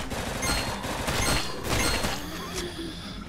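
Rapid gunfire crackles in the zombie shooter video game Dead Containment, dense overlapping shots and impacts in a short, loud burst with a game soundscape behind.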